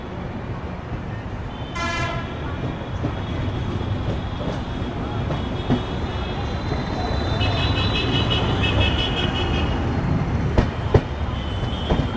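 A train pulls out of Dakshineswar station near Kolkata, a steady rumble of rolling wagons with a short horn toot early on and faint high squeals of wheels later, voices murmuring in the carriage.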